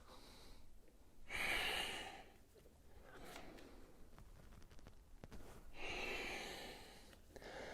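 Audible breaths during an energizing yoga flow, two long strong exhales a few seconds apart with quieter breathing between, close and fairly soft.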